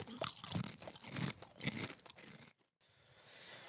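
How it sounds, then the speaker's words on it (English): A potato chip crunched in several crisp bites over about two and a half seconds, loud and close, followed by a quiet pause and faint room noise. "Let's go ahead and get a chip going."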